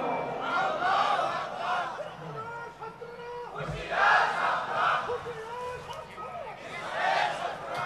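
A crowd at a religious speech chants slogans loudly in repeated rising bursts, many voices shouting together in a large gathering, with a lone speaker's voice between the chants.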